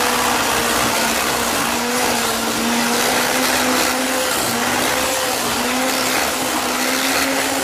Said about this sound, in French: je vais ajouter le reste du beurre, donc les 100 g de beurre. Et je vais battre avec le batteur